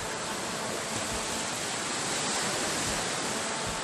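Sea waves wash onto Sai Kaew beach on Samet island in a steady, dense roar of surf that stays even throughout, with no speech.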